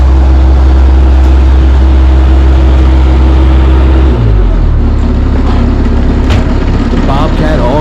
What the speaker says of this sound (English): The Bobcat auger.